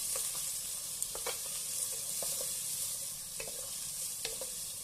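Onions with a pinch of salt fry slowly over a low flame for an avarekalu pulao, a soft steady sizzle broken by occasional light stirring taps from a spoon.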